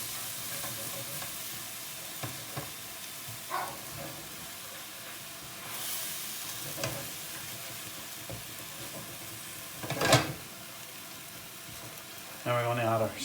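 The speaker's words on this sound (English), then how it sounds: "I'm going to pan fry this a few minutes just to cook the onion and the garlic" Onion and garlic pan-fry for a chicken madras, a steady low sizzle broken by scattered stirring scrapes, with a sharper clatter midway and a louder burst of frying at the end.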